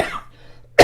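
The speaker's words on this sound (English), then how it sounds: "Excuse my coughing." One sharp, close cough bursts out at the end of a quiet moment, coming after a faint trailing voice.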